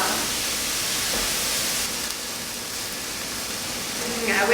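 Steam hisses in a constant broad wash off a skillet of rice cooking for arroz con pollo, loud and close, with a voice speaking over it.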